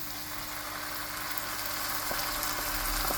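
Masala frying in a pan with onion and chopped tomato for a Goan lobster dish, giving a steady, moderately loud crackling sizzle throughout with no voices.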